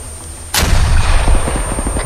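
In ArmA 3 night combat, a loud gunshot blast lands suddenly, followed by a rapid run of repeated shots and echoing rumble, close and with no one talking.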